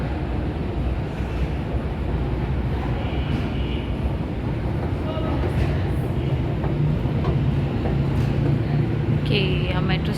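A metro train rumbles through a Tehran metro station, a continuous low rolling roar with squeals and clanks, along with faint voices in the station.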